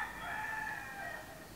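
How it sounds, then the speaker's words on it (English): A rooster crows, with a long drawn-out call heard faintly from a distance outdoors near a beach in Majorca, against quiet background noise. "There's chickens outside and they like cluck all fucking day."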